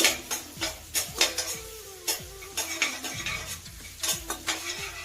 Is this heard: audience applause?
no